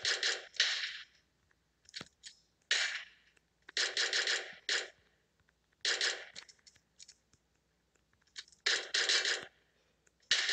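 Pistol fire in the mobile game PUBG Mobile: sharp, crisp shots in quick bursts of two to four, separated by short silences, heard alone at moderate volume.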